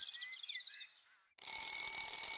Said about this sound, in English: I turn off my alarm clock.